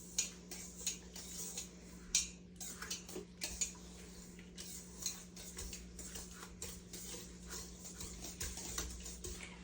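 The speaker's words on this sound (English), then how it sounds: "we have our eggs, our oil, and our sugar inside the bowl, and you mix properly" Eggs, oil and sugar mixed together in a bowl for carrot cake: faint, irregular clinks and scrapes of a utensil against the bowl over a low steady hum, with no talking.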